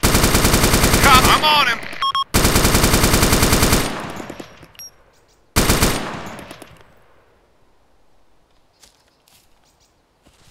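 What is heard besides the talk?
machine gun fire in video game Arma 2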